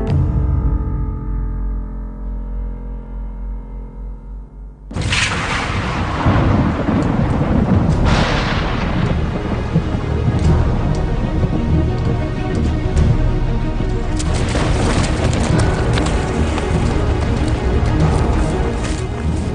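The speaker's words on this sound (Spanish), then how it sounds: "se ven sorprendidos por una tormenta repentina en un bosque próximo a Sessen, en las montañas Harz." A sudden thunderstorm in a forest in the Harz mountains opens with a low rumble, then a loud crack of thunder that rolls into continuous heavy booming and rain noise.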